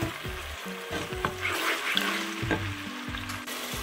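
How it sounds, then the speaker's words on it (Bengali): Onion paste masala sautés in a pan for Bangladeshi chatpati, with a continuous sizzle and repeated stirring scrapes at a close, moderate level. A soft tonal backing runs underneath. "এই মশলাটাকে প্রথমে একটু কষিয়ে নেব"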